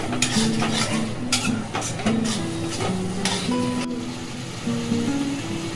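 Mutton masala with tomato and whole green chillies is stir-fried in a pan for Bengali mutton kosha, with a steady sizzle under repeated scraping and clanking of a spatula against the pan, close up and without speech.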